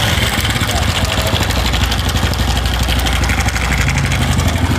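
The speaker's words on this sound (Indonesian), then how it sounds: "Kita dengarkan dulu suaranya bagaimana motor ini ya" A noisy motorcycle engine idles close by with a rough, uneven rumble, running steadily throughout without pause.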